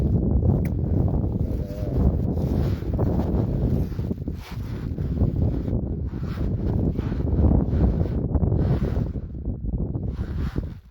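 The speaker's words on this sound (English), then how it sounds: "The wind's starting to pick up." Wind gusting across a frozen lake at the Tanana Lakes Complex near Fairbanks during ice fishing, a steady loud low roar with buffeting on the microphone that swells and dips throughout, no voices heard.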